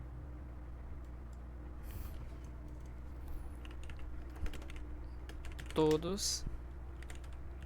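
Quick clacking keystrokes on a computer keyboard, near and fairly quiet, with a brief louder clatter toward the end and a short spoken word.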